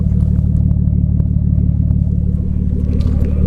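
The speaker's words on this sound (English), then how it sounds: "The exhaust sounds very deep and scary." Deep, throbbing exhaust rumble from a 2000 Nissan Stagea RS-Four, loud and close, idling with a steady low pulsing beat throughout.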